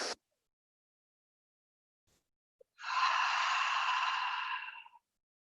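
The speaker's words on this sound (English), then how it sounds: "Breathe it in." Long, steady exhalation during a yoga session, about two seconds of soft breathy air heard close and alone after a brief click and a quiet pause.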